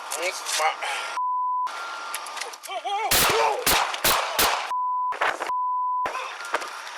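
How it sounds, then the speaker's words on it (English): During a police encounter, several sharp, loud gunshots in quick succession amid shouting voices, with bleeped gaps cutting through the chaotic exchange. "Shots fired! Shots fired!"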